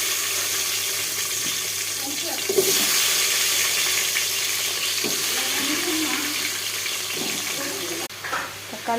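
Tomatoes and onions fry in hot oil for sambar, a steady, fairly loud sizzling hiss that runs throughout with a few faint clinks and stirring sounds.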